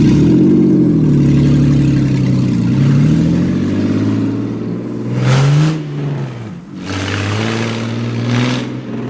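A LeMons race car engine with a faulty, clutchless drivetrain revs loudly and close by, pitch rising and falling as it pulls away and accelerates again on a lap.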